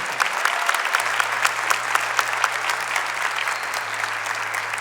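A congregation at a Catholic church service breaks into steady applause, a dense, even wash of clapping that fills the room throughout, with a faint low hum beneath.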